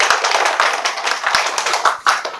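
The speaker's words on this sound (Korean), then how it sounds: "명예의 박수 한번 들어요." Clapping from a church congregation at an evangelism service held with Yeouido Full Gospel Church, dense and steady with sharper individual claps popping out, fairly close and filling the room.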